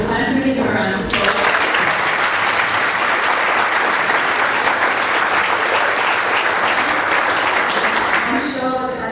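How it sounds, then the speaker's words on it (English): A live audience claps for a conference youth panel, dense sustained applause loud and close, starting abruptly after a brief moment of talk and fading at the end as voices return. "Can we give them a round of applause?"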